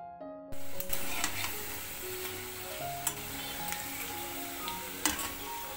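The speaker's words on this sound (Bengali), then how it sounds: "তারপরে আমি এই যে শাক বসিয়েছি, কলমি শাক ভাজা একদিকে" Water spinach (kalmi shak) fries in a pan with a faint, steady sizzle and a few sharp crackles, under a soft tonal background.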